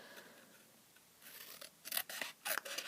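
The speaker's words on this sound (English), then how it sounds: "all I did was literally cut along this line here" Scissors cutting along a line in cardstock trimmings for a papercraft cake box, a few crisp close snips in quick succession following a soft rustle.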